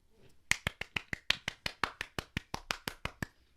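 Podcast hosts clap together after a Sorting Hat song is sung, giving a steady, close run of about fifteen sharp claps with no talking.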